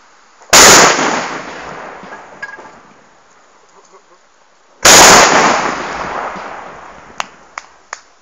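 Two loud carbide cannon blasts in Denekamp during New Year festivities, each a sharp boom with a long rolling decay, several seconds apart, followed by a few small distant pops; faint voices nearby.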